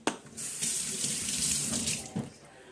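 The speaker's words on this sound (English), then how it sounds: "I'm going to rinse off my fingers here." Tap water running into a sink while fingers are rinsed under the stream, a close, steady splashing gush lasting a couple of seconds before it stops.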